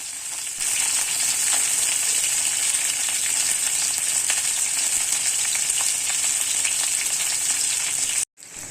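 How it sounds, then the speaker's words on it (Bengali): Parboiled cauliflower fries in a pan with a loud, even sizzle that carries on almost unbroken, stops sharply for a moment near the end, then comes back. "ফুলকপিটা প্রথমে সেদ্ধ করাই ছিল অল্প করে, তো এবার ভালো করে ফ্রাই করে নেব।"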